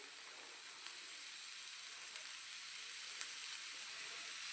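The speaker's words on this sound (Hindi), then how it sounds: "सब्जियों को भी हम लोग अच्छे से भूनेंगे इसका मॉइस्चर ख़त्म होने तक" Mixed vegetables sautéing in a pan until their moisture cooks off, a faint, even hiss and sizzle throughout with a couple of tiny ticks and no voices.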